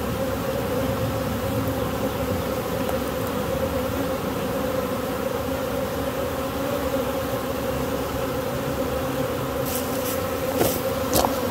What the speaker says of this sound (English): So now that'll cause all the bees to start coming in the entrance